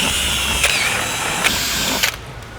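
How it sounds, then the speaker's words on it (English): A power drill with a 6mm bit boring pilot holes while a splitter kit is fitted to a Hyundai i30 Sedan N. The motor whirs steadily and loudly, broken by a few brief bumps and clicks, with no one talking. "take your 6mm drill bit this time and punch in some pilot holes"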